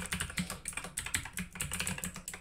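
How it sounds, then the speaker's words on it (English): A command being typed on a computer keyboard, a quick run of close, crisp key clicks in an irregular rhythm with no voice. "We're going to type git clone"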